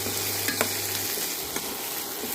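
Ivy gourd (kovakkai) stir-fry sizzles steadily in a pan while being stirred, with a few soft scraping knocks of the spoon over constant frying hiss; no talking.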